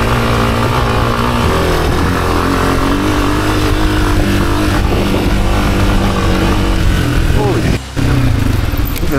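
A Suzuki DRZ-125 dirt trail bike roars continuously and loudly close by as it rides off down a mountain trail in British Columbia, with the engine note rising and falling.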